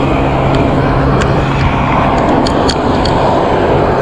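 Cars travelling a long, flat, wide road in Imus used for cycling practice, making a loud, continuous engine and tyre drone with a few faint ticks and clicks on top, and no talking.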